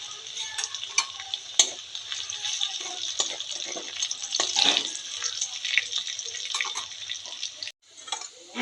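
Garlic fries in a pan for Bengali-style kochu shaak, a steady soft sizzle with scattered crackles and spatters, broken by occasional scrapes and stirring clatter near the mic, brief dip near the end.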